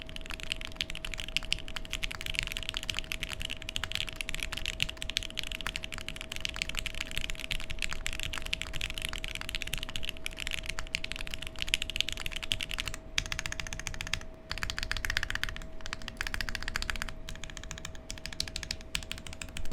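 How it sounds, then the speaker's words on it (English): Steady typing on a Cycle7 mechanical keyboard, a quiet, soft-sounding board: continuous dense clacking keystrokes for about twenty seconds with a faint steady hum underneath and no talk. "providing a more flexible typing experience, a softer typing experience"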